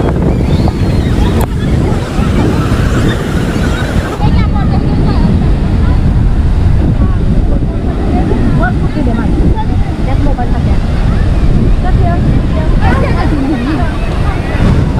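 Sea waves on Devghali beach in the Konkan, small sandy cove, a loud continuous surf wash heavily mixed with wind buffeting the microphone, with voices talking faintly underneath.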